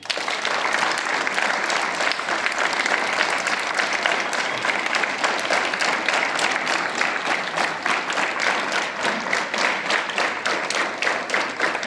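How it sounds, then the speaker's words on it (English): Students at a school morning assembly clap in sustained, dense applause, loud and steady for the whole stretch with rhythmic bursts and no talking. "Clap."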